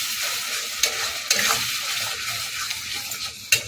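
Spinach tarka being stirred in a frying pan, a bright continuous sizzle with periodic spatula scrapes and small knocks, close and fairly loud throughout.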